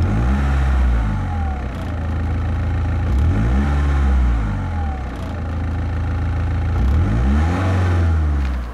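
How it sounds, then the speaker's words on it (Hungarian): A 2002 BMW 320d diesel sedan revs through an aftermarket rear muffler with dual tips, loud and close, with repeated rising and falling revs over a steady low idle rumble. "Hátul utángyártott kipufogó dob dupla véggel."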